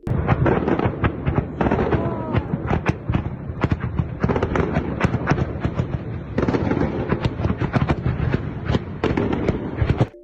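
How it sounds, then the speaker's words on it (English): Air defense firing over Kyiv at night, a dense continuous barrage of sharp cracks and bangs resembling fireworks, loud and rapid throughout with some voices faintly underneath. "These are not fireworks, we haven't seen fireworks for a long time and we don't enjoy them anymore. This is the work of our air defense."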